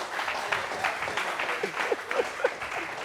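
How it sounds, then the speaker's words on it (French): An audience applauds during a French television show, a dense wash of many hands clapping at moderate volume for a few seconds, with a few vocal exclamations rising through it. "Applaudissez!"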